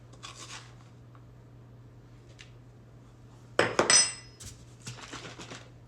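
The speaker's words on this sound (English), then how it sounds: "So shred your stick of butter." A frozen stick of butter shredded on a grater for buttermilk biscuits, a quiet start with faint scrapes, then a sharp burst of metallic rasping and clinking near the middle and a few softer scrapes after.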